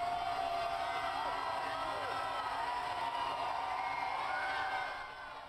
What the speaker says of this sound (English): They return home just before 1 a.m. Monday to a crowd of cheering fans.